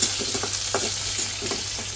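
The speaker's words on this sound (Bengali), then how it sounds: "মাছগুলো অনেকদিন হয়েছে তো ফ্রিজে তাই আগে মাছটা ভাইজা নেই" Fish that had been stored in the fridge sizzles steadily in hot oil in a pan, a dense continuous crackle with faint spatters, close and even, no talking.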